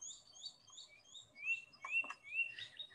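A young swallow-tailed kite in Sarasota gives thin, high, repeated calls while other birds chirp in the background, the calls rising in strength toward the end; no speech.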